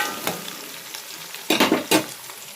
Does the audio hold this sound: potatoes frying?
yes